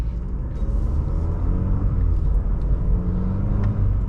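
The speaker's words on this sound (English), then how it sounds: "Right away, just setting off in this CT4." A 2020 Cadillac CT4-V AWD pulling away from a stop and accelerating, a steady low engine rumble and road drone heard from inside the cabin, fairly loud and continuous, no talking.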